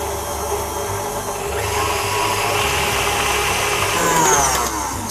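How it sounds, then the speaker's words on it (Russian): An electric hand mixer whipping cream into a stiff cream, running as a loud, steady motorized whir that rises slightly in intensity toward the end, heard close up with no talk. "Нам нужно взбивать сначала на небольшой скорости, потом на максимальной, до тех пор, пока сливки не превратятся в твердый крем."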